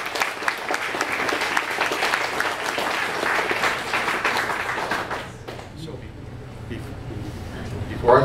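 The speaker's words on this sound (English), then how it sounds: "I'd like to give a big round of applause for Will Garage for hosting us." An indoor audience at a HomeBrew Robotics Club meeting gives a steady round of applause, which tapers off into quiet room hum.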